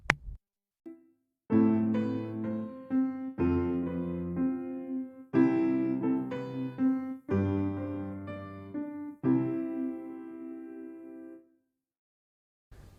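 A series of sustained piano chords with triads shifted upwards, played one after another, each ringing out before the next, in a slow progression that fades to silence.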